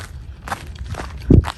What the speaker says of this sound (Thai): เดินออกกำลังที่นี่นะคะอยู่บนเขาแบบนี้